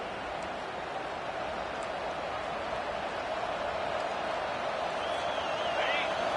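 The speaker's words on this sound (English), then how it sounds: "Listen to this crowd just shaking the girders of this place, trying to help their defense." A stadium crowd roars steadily in College Football 25 during a Baylor vs USC game, a dense, loud, continuous wall of cheering with a faint whistle near the end.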